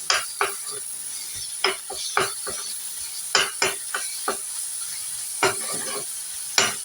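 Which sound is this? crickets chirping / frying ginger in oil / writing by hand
frying ginger in oil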